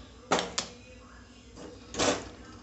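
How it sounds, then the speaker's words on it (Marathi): A household gas stove being switched on in a home kitchen: two quick clicks of the knob, then a soft whoosh as the burner catches, heard close with no talking. "मी गॅस चालू करते।"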